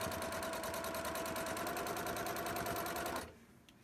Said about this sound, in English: So every sewing machine has a backup button.